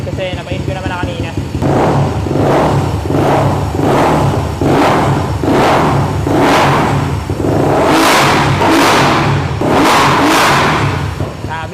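A Yamaha Aerox scooter with a 185cc engine, not yet tuned, revs hard in repeated loud bursts, each throttle blip rising and falling in a rhythmic series close to the listener, while people talk over the engine.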